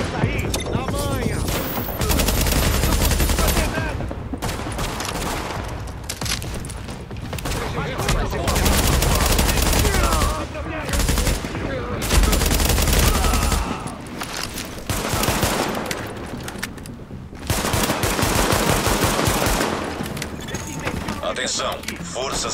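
Sustained bursts of automatic gunfire and shots from The Division video game, loud and dense in repeated volleys across the clip, with game sounds and voices talking over the action.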